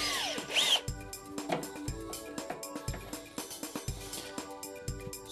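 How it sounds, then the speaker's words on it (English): A power drill bores into a wall during kitchen base unit assembly, with a steady motor whir and a run of short rhythmic grinding bursts and knocks at close range. "Never put your hand behind the drill in case you push too hard and it goes straight through."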